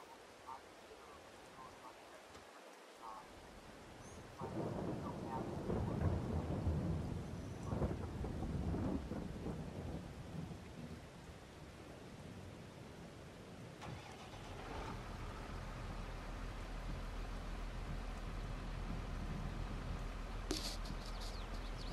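Rain falls steadily with a rumble of thunder, and a car engine starts and runs nearby; the sound is fairly quiet overall, with a louder rolling stretch in the middle.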